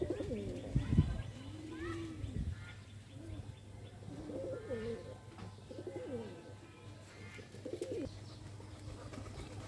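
Pet pigeons cooing nearby, several low rolling coos repeating through the clip with occasional soft chirps and some background talk.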